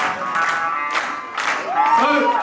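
Audience clapping at a sangeet night, a steady wash of applause from a crowd, with a voice singing over it and growing louder near the end.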